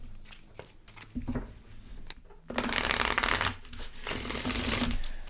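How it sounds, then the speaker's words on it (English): Oracle cards being shuffled and pulled during a love and relationship card reading, with soft riffling and sliding bursts that swell into a long, dense, close-up shuffle before easing off. "let's go ahead and pull the last row of oracle cards here"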